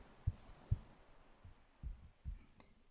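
Soft, low thumping heartbeats in a guided meditation pulse at a slow, steady pace, a few evenly spaced beats over a quiet, hushed background.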